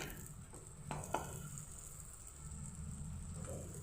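Lote fish stirring and frying in a wok over a high gas flame, a soft steady sizzle with a few spatula scrapes and taps against the pan, no talking.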